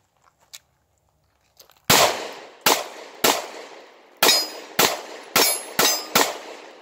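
Live-fire gunshots at a shooting range, fired left-handed. Nine loud, sharp reports come one at a time at uneven intervals, each with a short ringing decay, after a few quiet clicks.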